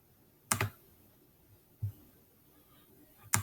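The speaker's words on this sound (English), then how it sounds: "and then I'll just type whatever my comment is here" A computer keyboard is tapped while someone types a comment, with three sharp, isolated clacks spread out over a quiet background, close and fairly loud.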